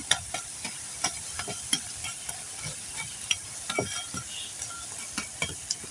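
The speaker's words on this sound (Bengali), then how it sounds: "এভাবে লাল লাল করে ভেজে নিতে হবে।" Banana blossom chops frying in oil, a quiet bubbling sizzle broken by repeated sharp clicks and taps of a utensil stirring in the pan at an uneven pace.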